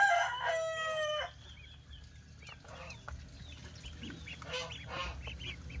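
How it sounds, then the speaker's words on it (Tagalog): White ducks on a small farm call among other poultry. A loud, harmonic rooster-like crow comes first for about a second, then gives way to scattered quacks and clucks of the flock under a steady outdoor hum. "ito naman yung mga itik natin"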